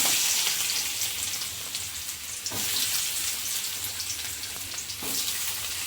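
Onion hits hot oil with popped mustard seeds in a pan, a loud, steady frying sizzle throughout with a few stirring scrapes, close and without talk.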